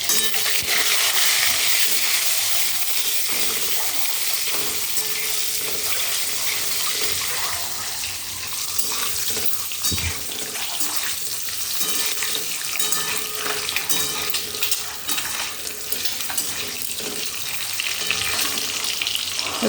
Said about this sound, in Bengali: তাই চলো ডিমগুলো ভেজে নিই।